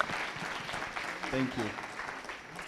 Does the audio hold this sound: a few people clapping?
yes